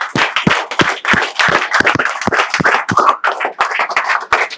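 A group of students claps loudly in a classroom, dense uneven hand claps overlapping in quick succession for several seconds, close and energetic.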